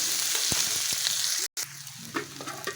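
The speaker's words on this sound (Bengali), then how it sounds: "পেঁয়াজ, কাঁচা লঙ্কা। একটু লাল লাল হয়ে আসলে দিয়ে দেবো অন্য মশলাগুলো।" Onions and green chillies with cumin frying in oil, giving a loud, steady sizzle with stirring knocks and scrapes, broken by a brief silent cut before the frying resumes; no voices.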